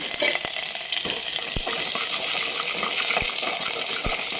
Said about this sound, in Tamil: இதோட ரெண்டே ரெண்டு வெங்காயம் மட்டும் போட்டு தாளிங்க